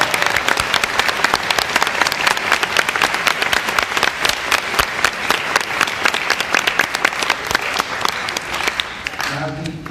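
Audience at a Democratic gubernatorial candidates forum applauding the candidates: a loud, dense run of clapping with sharp individual claps, lasting nearly ten seconds before tapering off as a voice begins.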